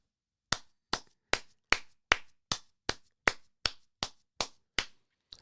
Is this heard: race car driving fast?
no